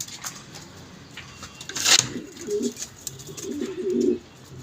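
Pigeons coo in low, soft bursts, with a couple of throaty calls rising midway and again near the end over a quiet background, broken by a brief sharp clatter just before the first coos.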